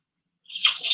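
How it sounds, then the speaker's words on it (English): Water starts to run after a moment of silence, a soft splashing hiss that goes on steadily at close range. "We hear water."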